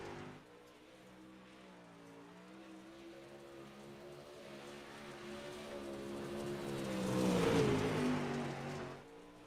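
A modified race car on warm-up laps around the dirt track at Bristol Motor Speedway, its engine droning low and steady, then swelling louder as it approaches and passes before fading.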